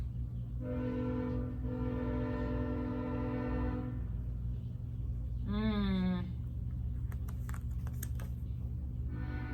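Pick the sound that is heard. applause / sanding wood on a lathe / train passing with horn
train passing with horn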